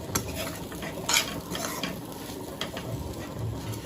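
A spoon scrapes and stirs chaat masala through mashed aloo samosa potato filling in a pan: a few short, close scraping strokes, with one sharper clink.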